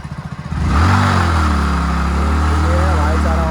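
A motorcycle engine at a Delhi street market starts with a rapid putter, then swells into a loud, sustained rev held steadily close by for several seconds.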